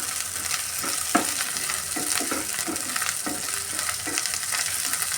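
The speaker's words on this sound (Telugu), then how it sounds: "ఉల్లిపాయలు కూడా బాగా వేగుతున్నాయండి." Onions sizzle in oil with ginger garlic paste, a dense close frying crackle with frequent stirring knocks and scrapes of a spoon against the pan, continuous and without speech.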